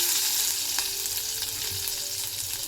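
Curry leaves spluttering in hot oil give a steady, close, crackling sizzle with tiny pops throughout, loud and even with no voices over it.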